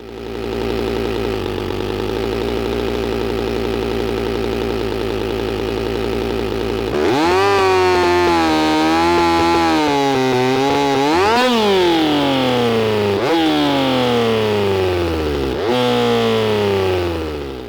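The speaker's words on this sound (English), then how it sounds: "we start hearing the familiar two-stroke idle start to emerge" A simulated two-stroke chainsaw engine: a steady low buzzing drone gives way to a rougher idling note with repeated rising-and-falling swells in pitch, loud and close, with no voices.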